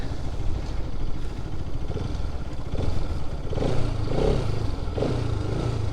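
A Bajaj Pulsar RS200 motorcycle engine runs steadily while riding on a monsoon trip near Valparai, a continuous low rumble that swells slightly midway, close and fairly loud with no talking.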